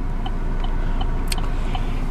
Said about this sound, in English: today I'm starting the vlog off in the car